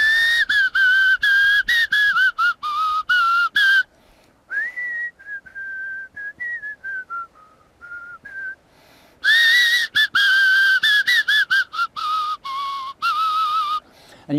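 Clear, bright whistling into an acorn cupule in sustained tones, loud bursts at start and end with a softer, wavering middle passage.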